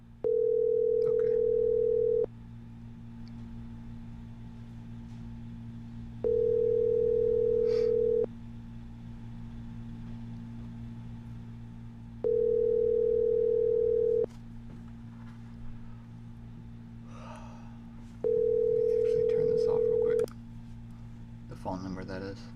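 Ringback tone of an outgoing call to a phone line: four steady two-second rings spaced about four seconds apart, clear and prominent over a low hum, with faint background noise between rings.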